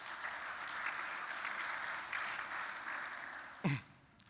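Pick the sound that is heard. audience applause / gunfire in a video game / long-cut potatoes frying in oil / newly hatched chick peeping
audience applause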